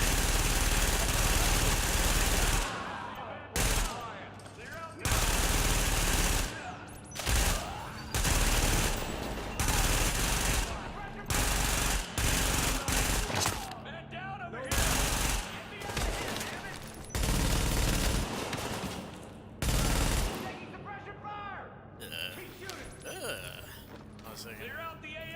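Bursts of blind gunfire from The Division on PC, repeated loud automatic volleys in close succession separated by short gaps, with a player talking over parts of it.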